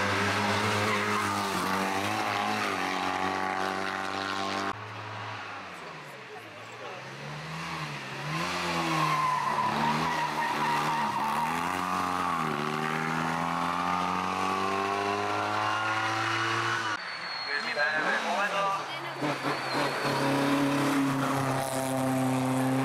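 A Porsche race car at the Ecce Homo Šternberk 2012 historic hill climb, its engine roaring loudly and continuously with rising and falling revs and gear changes, close by and unbroken, with a brief tyre squeal.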